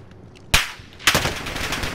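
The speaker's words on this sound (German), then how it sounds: "Ich werde irgendwo von draußen die ganze Zeit angeschossen." Automatic gunfire in Call of Duty: Modern Warfare, two loud close bursts about half a second apart, the second a sustained rattling stream of rapid shots.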